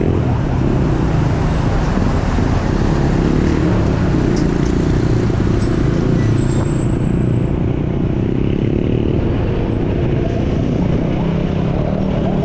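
A car drives through road traffic on a rough, patched street, with a loud, steady engine and road rumble throughout and faint higher whines from passing vehicles.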